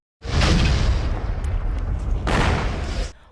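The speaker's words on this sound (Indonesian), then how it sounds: "Namun bodohnya di sini, Mutian tak sengaja menyalakan bom tersebut sehingga meledak." A cartoon bomb goes off with a loud, deep blast that rumbles for about three seconds, with a second surge of roaring debris near the end before it cuts off.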